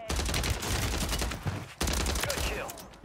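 Rapid bursts of automatic rifle fire from an STB 556 assault rifle in Warzone 3, loud and close, with a brief gap in the middle before the shooting resumes.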